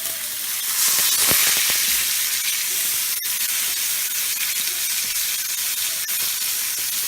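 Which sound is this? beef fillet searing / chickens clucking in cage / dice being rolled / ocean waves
beef fillet searing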